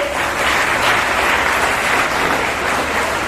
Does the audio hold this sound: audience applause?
yes